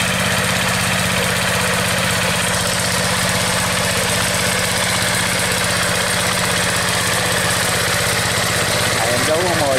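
A motor tiller engine runs loud and steady while the machine turns in a farm field, a constant throbbing drone close by, with someone talking over it.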